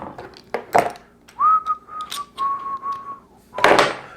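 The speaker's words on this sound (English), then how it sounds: "I'm whistling the Alabama fight song" A man whistles the Alabama fight song, sustained steady notes with a few short pauses, close to the listener, with faint clicks and knocks around it.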